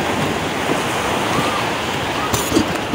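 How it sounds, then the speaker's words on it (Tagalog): Strong sea waves wash against the shore at a fishing spot, a continuous roar of surf with wind gusting on the microphone and occasional bursts of splashing. "Lakas ang alon."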